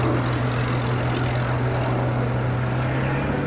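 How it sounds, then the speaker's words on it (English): Hawker Hurricane propeller aircraft lining up on a runway, its engine giving a steady, loud, continuous drone with a strong low hum that holds unchanged throughout. "Hurricane, line up runway 19."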